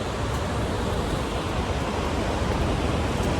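Tall Norwegian waterfall plunging about 182 metres from the clifftop, heard from a bridge nearby as a steady, dense, broadband roar with no break or pause.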